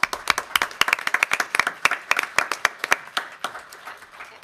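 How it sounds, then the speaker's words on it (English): An audience at a school board meeting claps in a loose, scattered round of applause, with individual hand claps standing out sharply for a few seconds. "Let's give everybody a big round of applause."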